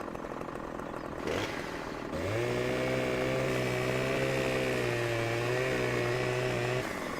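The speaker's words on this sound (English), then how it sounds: "I got a Husqvarna chainsaw right here, so we'll be cutting all of these trees down" A Husqvarna chainsaw in Farming Simulator 17 starts up and holds a steady buzzing, droning whine for several seconds before cutting off, loud and clear with no talk.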